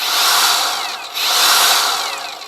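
A high-pitched Leader cordless angle grinder motor whines steadily on soft start, dips briefly, then spins back up to a loud, sustained grinding whir.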